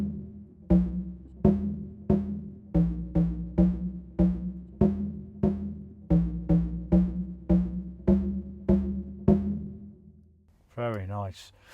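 Sampler instrument playing a string of repeated notes with reverb, each a sharp attack fading into a tail in a steady rhythm, followed by a short different tone at the end.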